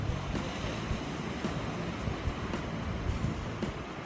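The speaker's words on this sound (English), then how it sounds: "Now we have reached Talpona Beach" Steady surf washes onto Talpona Beach in South Goa, a dense, continuous roar of breaking waves with a touch of wind across the microphone and no voices.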